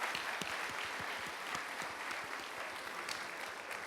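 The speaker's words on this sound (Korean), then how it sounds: "우리 모두를 우리 박수로 축복하고 격려했으면 좋겠습니다" Steady applause from a room full of people at a church youth retreat closing service, a dense and even patter of clapping that carries on without talk.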